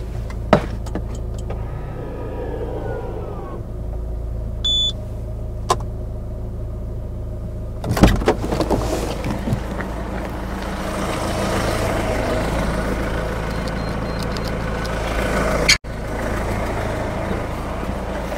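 A cheap Citroen C4 Picasso idles with a low steady engine hum after starting, a faulty injector chuffing within it, with a few clunks and a loud knock midway.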